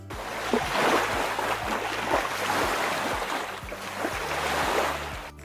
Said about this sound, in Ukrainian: Так, це шум моря.